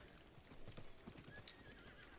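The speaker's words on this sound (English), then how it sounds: "Look at the horse." Horse hooves clip-clop in the Zelda video game, a quiet, steady run of hoof beats with a brief whinny partway through, heard without talk.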